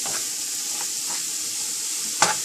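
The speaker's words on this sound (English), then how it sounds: "And here goes the Loki. Just stir this well" Lauki (bottle gourd) being stirred in a pan while it sizzles and fries steadily, a continuous bright hiss with soft scraping strokes and one sharper clack near the end, no talking.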